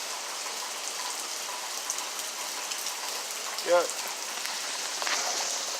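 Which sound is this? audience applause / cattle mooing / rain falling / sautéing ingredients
rain falling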